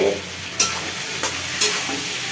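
Thick, tough greens stalks fry in oil with turmeric in a pan, giving a steady close sizzle. Three sharp scraping stirs cut through it at intervals.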